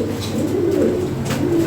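Fancy pigeons coo in low, throaty rolling calls, close and continuous for a moment at a pigeon sale, with no talk.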